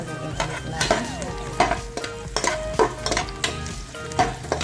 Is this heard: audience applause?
no